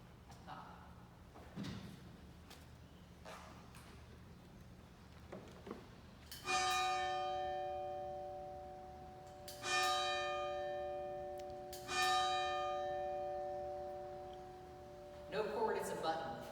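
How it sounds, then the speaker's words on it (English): An electrically rung church bell at a Protestant church in Hilo strikes three clear tolls several seconds apart, each ringing out and decaying, after quieter knocks and shuffling indoors, with a fourth strike cut short at the end. "ring that bell so you hear that, our church bell"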